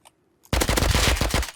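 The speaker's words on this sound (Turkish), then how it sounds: "özel susturucuyla vurdum" A suppressed rifle in Rust opens up after a brief quiet moment, firing a rapid, loud burst of closely spaced shots that continues to the end.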